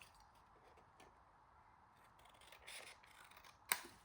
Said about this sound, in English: we're going to cut off these triangles